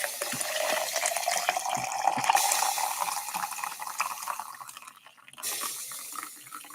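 A coffee pod machine dispenses into a cup with a steady hissing, gurgling stream and a brief mechanical click, ending in a sputter before a short pause.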